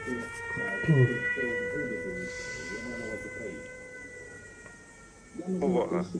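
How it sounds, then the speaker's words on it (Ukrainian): An air raid alert siren wails steadily in the background as a sustained tone, partly under people talking nearby, with louder voices near the end. "Повітряна тривога."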